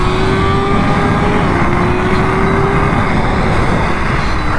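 A motorcycle is ridden at speed, a steady engine drone with a faint rising whine under heavy wind and road rush, continuous and close with no talking.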